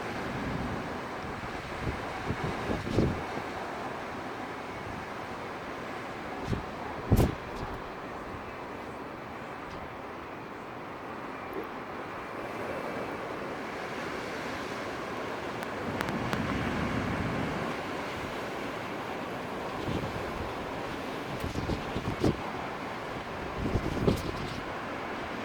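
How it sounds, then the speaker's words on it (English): Wind blowing outside a window on a cold, gusty day, a steady broadband rush with occasional louder gusts and rattles, continuous and fairly close. "Can you hear the sound? The wind is blowing in the wind."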